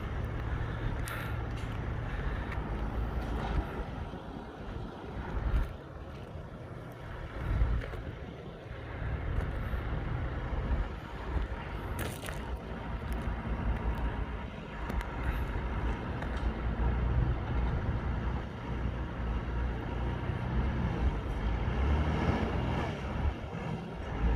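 A sugarcane grab loader truck runs steadily, its engine rumbling with low roar and wind buffeting the microphone, continuous and fairly close with no speech.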